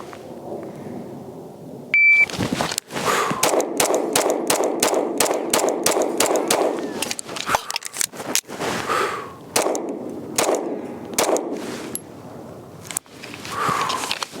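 A Springfield Armory Ronin EMP 4-inch 1911 pistol is fired in a shooting drill: a timer beep, then a rapid string of loud, close gunshots, a pause for a reload, and more shots in quick bursts.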